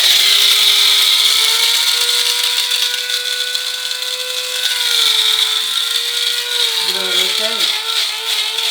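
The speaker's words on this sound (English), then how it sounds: "you just press the button and then it just like literally grinds it for you" Electric grinder steadily grinding, a continuous whirring drone with a slight pitch shift and rattling, while a person speaks over it.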